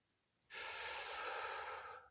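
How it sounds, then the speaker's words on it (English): A single deep inhalation through the nose, taken as part of a guided relaxation exercise, begins after a brief silence and holds as a steady, close airy rush for about a second and a half before tapering off. "Take a deep, cleansing breath. Breathing in through the nose,"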